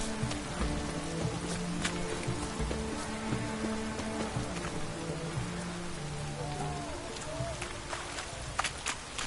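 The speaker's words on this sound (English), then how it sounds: "It's raining, of course it's going to be damp." Steady rainfall in The Witcher 3 on PS4, a dense hiss of drops spread evenly through the scene, with music and game effects layered over it and a voice now and then.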